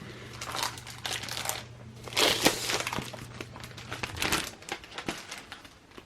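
Plastic packaging around a 12 by 12 cardstock paper pack is handled, giving close, irregular crinkling and crackling with louder bursts in the middle, and nobody speaks.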